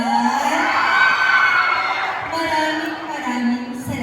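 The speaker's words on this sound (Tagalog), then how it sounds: "Palakpakan dyan. Wala rin po bang hiyawan dyan?" A crowd at a gay pageant production number cheers and shouts, with whoops and yells rising and falling over loud, busy background sound.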